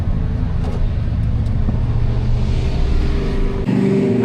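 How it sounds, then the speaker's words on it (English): A fast car accelerates hard at the Gridlife Midwest track event, its engine roaring close and loud in a steady climb before a sudden drop in pitch near the end. No one talks. "this car is fast"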